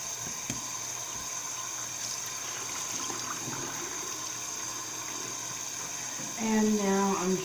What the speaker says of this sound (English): So I'm going to turn the water back on,